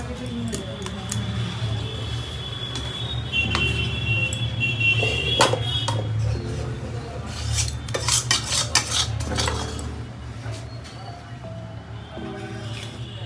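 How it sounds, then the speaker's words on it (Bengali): A knife scrapes and clicks against a plate while cutting a freshly set Bengali pitha cake into diamond shapes, with a steady low hum behind the close, intermittent taps and scrapes. "এবার আমি একটা ছুরির সাহায্যে সুন্দর করে বরফির শেপে কেটে নিচ্ছি"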